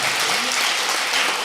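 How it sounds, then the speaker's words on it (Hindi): Hall audience at an evening poetry show claps steadily and fairly loudly, a dense continuous wash of applause without pauses. "ताली बजाओ"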